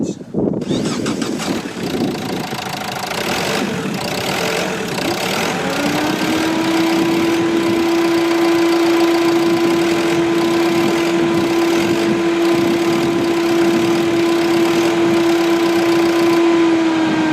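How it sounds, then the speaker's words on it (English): A diesel Renault Scenic III engine idles steadily in gear with a shaking drivetrain, producing a loud, constant drone that settles into an even hum partway through and runs alone without talk. "Stand there and watch the engine shake or move forward and backwards."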